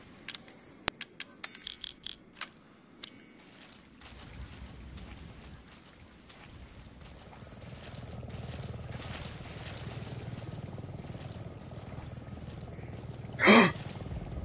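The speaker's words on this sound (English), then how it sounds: "So that's definitely a helicopter." A helicopter flies overhead in the video game Resident Evil 7, a low, steady rotor rumble that builds and grows louder partway through, following a scatter of sharp clicks and knocks, with no talking over it.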